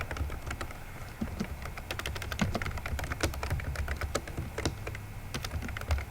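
Someone types on a computer keyboard, a steady close run of quick light clicks and taps with brief pauses, going on throughout with no speech.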